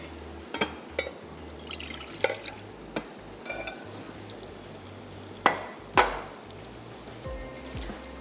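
Small splashes and drips as a little water goes into a cooking pot with tomatoes and red chilies for shaljam salan, a series of soft, close liquid plops and clinks.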